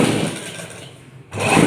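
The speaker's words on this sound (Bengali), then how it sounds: "এবার এটাকে সাইজ করে সেলাই করে দেবো।" A sewing machine stitches a princess cut blouse, a steady close mechanical whir that dips briefly and then resumes at full strength.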